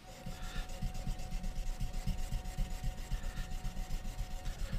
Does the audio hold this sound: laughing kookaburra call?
no